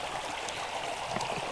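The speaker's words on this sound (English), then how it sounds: "A little mini waterfall here. A little rapid." A small waterfall and rapid on a stream rush steadily, a continuous close splashing roar of water with no pauses and no voices.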